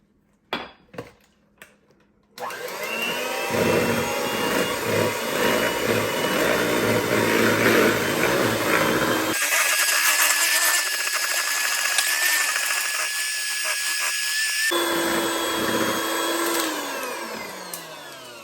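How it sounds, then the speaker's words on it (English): An electric hand mixer beating batter, a few clattering knocks and then a loud sustained whine that shifts pitch and strains as the mixer seems to fail, with no voices. "Oh my gosh, I think I just broke my mixer."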